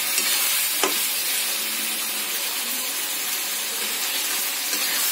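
Chicken and green chillies fry in a pan with a steady, close sizzling hiss that holds for the whole stretch, broken once early by a short stirring clack.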